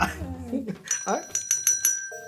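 A quiz game bell in a bluegrass pop quiz rings with several quick bright dings in a row, sounding after people's talk in the studio.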